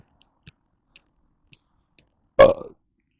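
A single loud, close burp erupts after a few faint ticks and clicks, otherwise near silence, during a walk to McDonald's in England.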